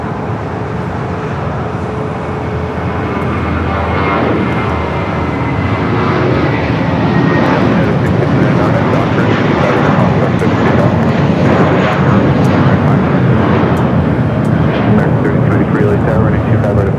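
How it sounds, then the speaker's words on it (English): A Cayman Airways Boeing 737 MAX 8 jet departing LAX produces a loud, broad engine roar that grows stronger and holds steady. Someone speaks over the sustained rumble. "Cayman Airways heading to Georgetown on the 737 MAX 8s"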